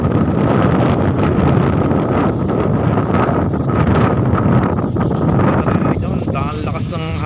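Strong wind roars steadily into the microphone outdoors by a road as rain falls, a loud, constant buffeting rush that never lets up.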